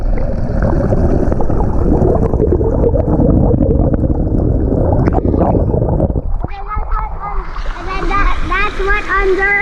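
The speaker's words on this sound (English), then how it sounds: "That's what the waterfall is like underwater." A swimming pool waterfall heard from underwater gives a loud, dense, churning roar for about six seconds, then gives way to someone talking above the water.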